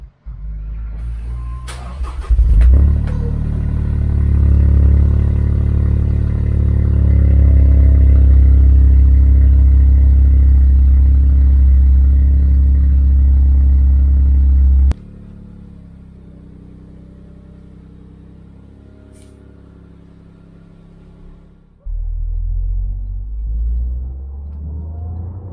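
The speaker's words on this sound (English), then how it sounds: "Let's get a cold start on this car." Toyota GR Corolla cold start: a starter whirr, then the engine catches with a loud roar and settles into a high, rumbling fast idle, drops sharply to a quieter idle, then a burst of revving near the end.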